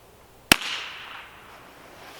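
A single sharp crack from a Ruger American .22 bolt-action rifle being fired outdoors while sighting in, a close, loud report followed by a short fading echo.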